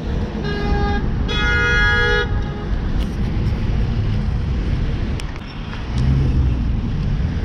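A car horn gives two honks in busy evening traffic on a city street, a short toot followed by a longer blast, loud over steady engine and road noise.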